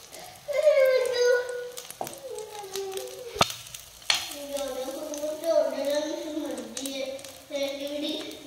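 Breakfast batter made without wheat flour, refined flour, semolina or gram flour sizzles steadily in a hot pan, a soft crackling hiss that continues under someone speaking.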